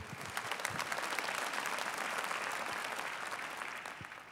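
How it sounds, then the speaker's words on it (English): Dense, sustained audience applause in a hall after a theological question-and-answer panel, steady and moderately distant, slowly tapering toward the end. "I don't want to step on your applause"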